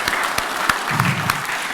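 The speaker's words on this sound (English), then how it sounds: "another round of applause." A crowd at a national small-business awards ceremony in Fiji applauds steadily, dense clapping with a few sharper claps standing out, continuing for the whole stretch.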